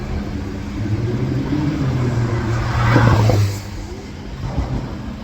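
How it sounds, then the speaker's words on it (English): Fast car driving past, a rising rumbling whoosh that swells to a peak near the middle and then fades quickly, with steady outdoor background noise and no talk. "Fast car."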